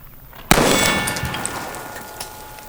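A single sharp, loud shot from a S&W 500 Magnum revolver fired at a bowling ball, an abrupt blast at close range followed by a ringing, slowly fading tail and a faint later knock.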